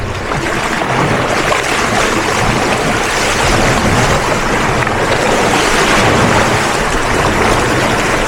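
Ocean waves wash continuously against a seawall at the beach, a loud, dense roar of surf mixed with heavy wind buffeting the microphone, steady throughout without any talking.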